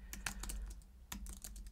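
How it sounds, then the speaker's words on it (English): Rapid clicking keystrokes on a computer keyboard, typing random letters in uneven bursts with brief pauses, close and fairly quiet with no voices. "Let's go ahead and click inside of that and start typing. I'm just typing random letters."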